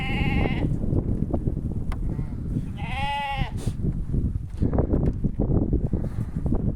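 Sheep in a Kazakh village flock bleating close by, several wavering calls rising over wind noise and low rustling, with a voice briefly speaking in the background.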